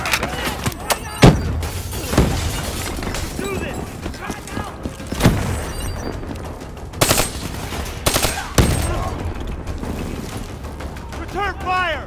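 Gunfire from the video game Call of Duty: Black Ops III, with repeated loud bursts and sharp cracks over a dense battle background, some shots standing out sharply near the start and later on, with voices talking under the action.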